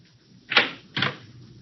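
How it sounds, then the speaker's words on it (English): A front door opening, as a radio drama sound effect: two close, distinct clunks about half a second apart, alone without talk. "Front door."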